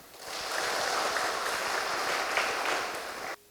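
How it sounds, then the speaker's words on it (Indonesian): A school assembly audience in Tulungagung, East Java, gives a short burst of applause, a soft, distant wash of many hands that swells quickly, holds for about three seconds, then cuts off abruptly. "Tepuk tangan dong."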